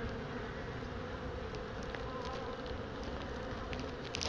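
Honey bees fanning their wings during a swarm removal in College Park, a dense continuous buzzing drone close to the listener, steady and unbroken with a few individual bees flying past.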